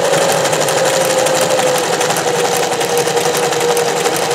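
A vintage sewing machine runs steadily as it stitches scallops, giving a continuous rapid mechanical whirring and clatter with a constant motor hum, loud and close with no pauses.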